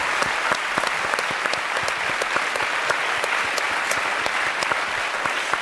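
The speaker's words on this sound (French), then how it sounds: "applaudissements pour ce jeune homme" Studio audience in a French TV talk show applauding steadily, a dense, even patter of many hands clapping close and loud throughout.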